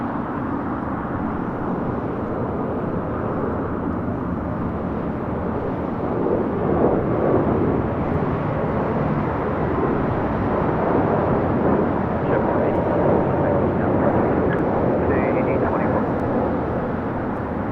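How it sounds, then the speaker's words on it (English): A JetBlue Airbus A321 rolling down the runway at LAX, a distant steady jet rumble that rises slightly midway and stays fairly even, with talk over it. "we do have a JetBlue A321 now rolling down"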